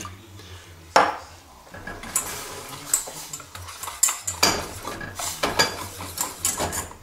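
A utensil stirs strawberries and sugar in a metal pot, giving close, irregular scraping and clinking against the sides with a faint simmer underneath.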